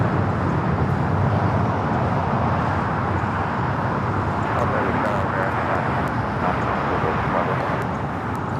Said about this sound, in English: This is China Airlines Cargo 5382 taking off to Miami, Florida on the 777 freighter